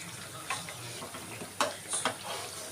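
Black chickpea and green gram vadas frying in hot oil give a soft, faint sizzle with a few scattered pops and ticks, heard close and without talking.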